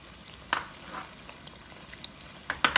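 A ground beef stuffed paratha cooks in a pan with a low, quiet sizzle. A few sharp scrapes and taps from a spatula break through it.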